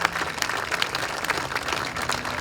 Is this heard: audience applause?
yes